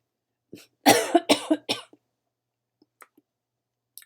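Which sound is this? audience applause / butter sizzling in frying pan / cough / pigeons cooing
cough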